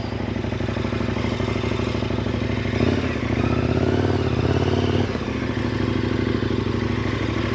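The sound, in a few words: KTM 1090 Adventure motorcycle engine riding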